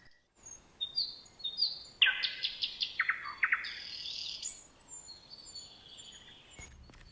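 Birds sing in a quiet forest: bright chirps and twittering phrases, one call after another, fairly close and clear.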